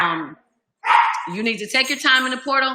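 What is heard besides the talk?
dog barking in the house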